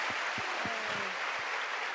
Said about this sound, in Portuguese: Vamos aplaudir